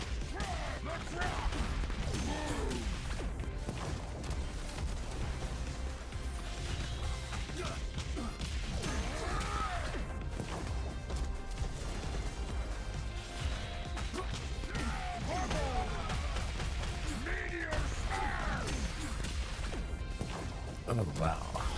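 Hulk smashing objects and enemies in a video game, a dense, continuous stream of crashes, thuds and whacks over busy game noise, with a voice talking now and then.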